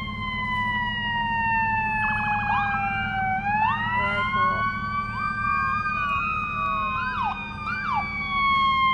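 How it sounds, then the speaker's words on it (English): Sedgwick County fire trucks and EMS vehicles rolling in the Wichita Veterans Day Parade, several wailing sirens overlapping and sweeping up and down in pitch, with short horn-like blasts over a low engine rumble, fairly near. "behind them we have the Sedgwick County fire trucks and EMS, and you're going to hear them"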